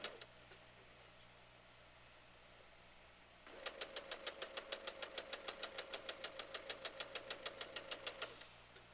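A sewing machine starts stitching after a few quiet seconds and runs in a fast, even, rhythmic chatter of needle strokes for about five seconds before stopping. It is close but fairly faint, and no one speaks.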